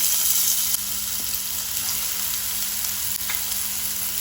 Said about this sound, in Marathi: तेल तापले तशें हांव तातून कांदो घालता